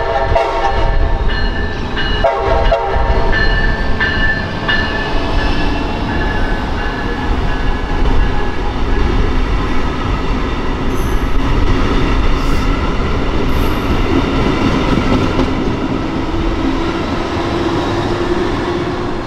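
Brightline passenger trains pass close by on South Florida FEC track near a maintenance truck, a loud continuous rumble and wheel roar with tonal horn blasts early on, steady throughout.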